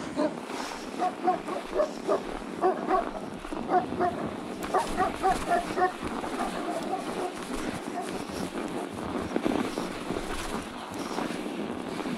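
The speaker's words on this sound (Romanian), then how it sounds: "Ia uite acolo, dita mai câinele, sper că nu poate să iasă ăla de acolo." A large dog barks in a snowy outdoor spot, a series of repeated woofs heard at a moderate distance over steady wind noise, with someone talking close by.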